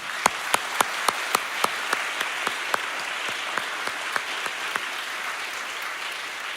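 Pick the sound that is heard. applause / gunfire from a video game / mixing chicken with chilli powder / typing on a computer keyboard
applause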